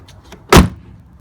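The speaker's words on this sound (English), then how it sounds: "even the way the doors close" A single solid thud of a 2004 Volkswagen Phaeton W12's door shutting, close by, with near silence before and after.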